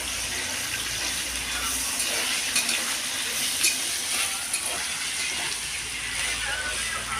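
Pointed gourd (potol) fries in a pan with chili paste and ginger paste, making a steady bright sizzle that hisses on throughout with small crackles and a low voice in the background.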